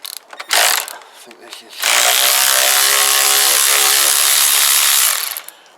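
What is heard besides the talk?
cordless electric ratchet on motorcycle front end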